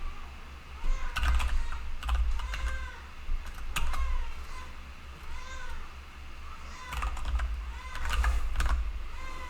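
Typing CSS code on a computer keyboard, with bursts of rapid close key clicks separated by pauses, over a low steady hum; a cat meows intermittently in the background.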